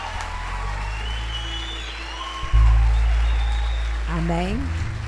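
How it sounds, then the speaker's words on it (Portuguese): Church congregation applauding during a communion celebration service, a broad steady wash of clapping and crowd noise, with a low organ-like drone entering midway and a voice rising briefly near the end. "vamos aplaudir ao Senhor e receber a nossa pastora"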